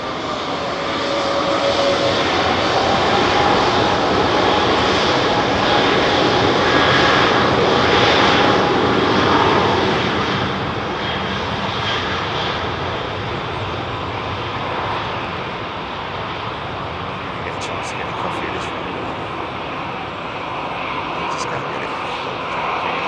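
A jet airliner taking off from London Heathrow bound for Salzburg, engines roaring loud and close before the noise gradually eases and fades over the second half, with some talk over it.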